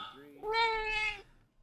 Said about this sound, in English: Yes, meow right into the mic.